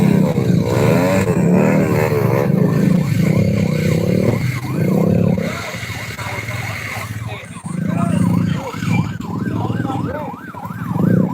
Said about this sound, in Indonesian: Ini motor Bang Iwan pun.